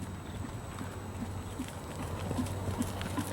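A horse trots in a dressage training session, its hooves landing in a steady, even beat of soft thuds, faint and somewhat distant over low background hum.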